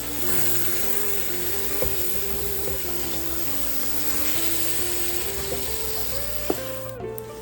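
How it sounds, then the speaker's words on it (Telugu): Chicken coated in garam masala is stirred in a hot pan for pulao, giving a steady close sizzle with a faint background hum and a couple of brief utensil clinks. "ఒకసారి చికెన్ని మంచిగా కలిపేసుకోవాలి"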